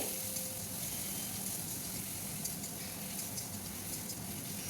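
Onion paste and tomato paste frying in a pan after whole cumin and garam masala tempering, a steady low sizzle and crackle that continues without pause and stays fairly quiet.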